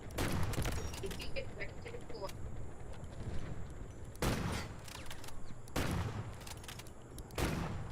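Gunfire from the Delta Force video game, with sharp bursts of shots every couple of seconds over a busy background and talking players.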